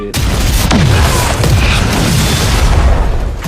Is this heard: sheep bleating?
no